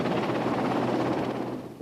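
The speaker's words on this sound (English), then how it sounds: "The helicopter's there, it's noisy" A military helicopter on a pitch-black night flight throws out a loud, continuous thudding rotor roar close by, steady throughout with no voices.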